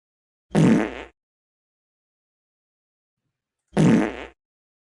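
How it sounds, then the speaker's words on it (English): Two played fart sound effects, each a short, loud, close blast of about half a second, separated by roughly three seconds of silence, with no talk. "All right, here's more fart sounds."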